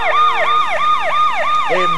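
Cartoon fire engine siren wailing in steady rising and falling sweeps, loud and close, about five cycles in a row with a second tone joining at the end.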